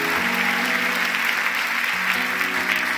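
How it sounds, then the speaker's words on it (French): A church congregation applauds loudly for a steady stretch, dense clapping filling the room with faint voices and a sustained musical tone underneath. "Est-ce qu'on pourrait applaudir encore bien fort notre Dieu?"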